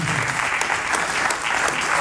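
An audience at a startup pitch awards event applauds a winning company, thick sustained clapping from a crowd, steady and fairly loud with no gaps.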